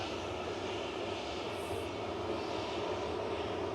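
A Ryanair Boeing 737-800 lined up on the runway at Manchester Airport, heard as a steady, faint, distant engine hum and rumble with no change in level.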